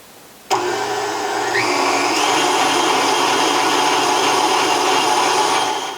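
A stand mixer with a dough hook kneads rye English muffin dough on a medium setting, starting abruptly with a steady, loud motor whine and rumbling drone that holds throughout.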